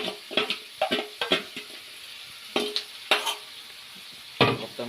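Chicken pieces fry in a kadhai: soft sizzling beneath a series of sharp scraping and clattering stirs against the metal pan, arriving in irregular bursts with quiet gaps between.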